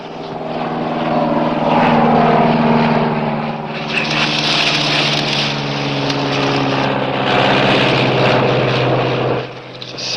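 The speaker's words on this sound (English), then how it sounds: "It's a Civil Air Patrol searcher's plane." A Civil Air Patrol search plane with a propeller engine drones steadily overhead, loud and continuous for about ten seconds, with a harmonic hum that swells and fades slightly with no talk over it.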